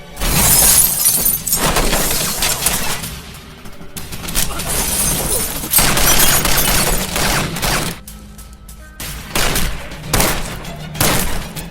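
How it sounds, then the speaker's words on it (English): Movie gunfight between two people and a bodyguard, loud bursts of gunfire with shattering and breaking impacts coming in repeated waves, dense and close, with brief quieter gaps between volleys. "there was a gunfight between the two of them and Andrew's bodyguard"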